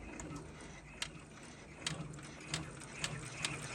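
An embroidery machine stitches the top of the letter K in a KC Fitness logo, a low, steady mechanical whir with regular soft ticks and clicks, faint and close.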